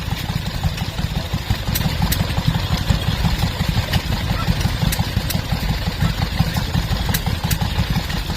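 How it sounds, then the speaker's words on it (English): Vintage stationary engines, among them a 1941 Ruston Hornsby 1.5 horsepower and a Lister, chug steadily at a rally, a loud, close, continuous clatter of overlapping engine beats with sharp periodic ticks. "Stationary engines here."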